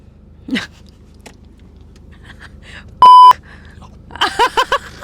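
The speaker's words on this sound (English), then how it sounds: "Age of your first kiss? Beep." Censor beep on a Telugu radio talk show, one loud steady tone lasting about a third of a second, set between faint scattered voices.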